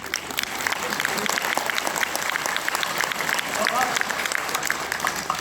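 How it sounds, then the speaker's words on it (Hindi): Loud, sustained applause from a large Hindi-speaking audience at a stand-up comedy show, steady dense clapping throughout with a faint murmur beneath. "एक बार जोरदार तालियों से मेरा उत्साह वर्धन कीजिए"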